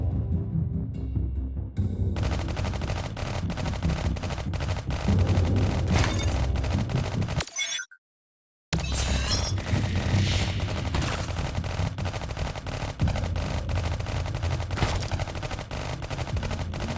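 Dense, sustained gunfire from Marines in a Halo-style space combat game, a loud continuous barrage of rapid machine-gun bursts and booms that cuts out briefly partway through, then resumes.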